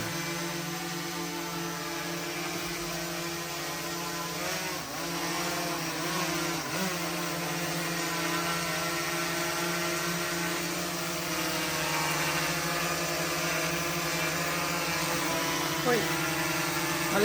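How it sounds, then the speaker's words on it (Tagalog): A DJI Air 3 drone flies nearby, its rotors producing a steady, loud whining buzz with layered tones that bend briefly in pitch as it maneuvers, continuing throughout. "O, lumilipad na ang ating drone."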